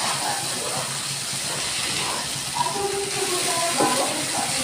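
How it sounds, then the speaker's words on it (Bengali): Small puti fish dropped into hot, well-fried spice masala with green chillies, giving a steady broadband sizzle and hiss that runs through the whole stretch with no talking. "এবার আমি মাছগুলো এর মধ্যে দিয়ে দিচ্ছি।"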